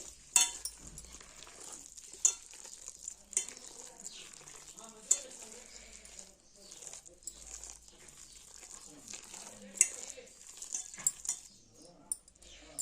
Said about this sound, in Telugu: మొత్తం అంతా కలిపిన కలిసిపోయినట్టు కలుపుకోవాలండి